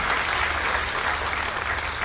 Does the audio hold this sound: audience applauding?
yes